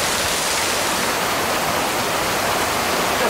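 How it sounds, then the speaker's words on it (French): A waterfall in Narbonne pours as a constant, loud, broadband rush of cascading water, steady and unbroken, with no voices. "vous allez à la station Hival pour entendre la cascade fine"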